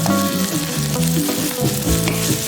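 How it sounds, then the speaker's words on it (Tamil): Ginger garlic paste, green chilies, mint and curry leaves sautéing in a pan for chicken salna, giving a steady, close, loud sizzle with light stirring scrapes throughout and no voices. "2 டீஸ்பூன் இஞ்சி பூண்டு விழுது, 3 பச்சை மிளகாய், கொஞ்சம் புதினா, கொஞ்சம் கருவேப்பிலை சேர்த்து நல்லா வதக்கிக்கோங்க."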